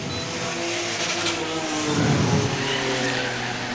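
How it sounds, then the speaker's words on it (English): V6/V8 stock cars racing side by side at a speedway enduro late in the race, engines droning loudly up close with a rising roar as a car passes near the middle. "Cars battling side by side right in front of him."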